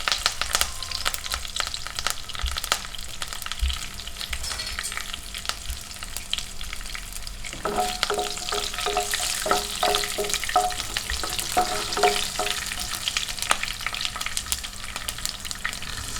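Curry leaves and green chillies hit hot oil with popping mustard seeds for a bitter gourd theeyal, producing a loud, steady sizzle with stirring scrapes throughout.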